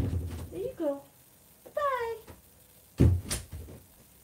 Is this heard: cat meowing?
yes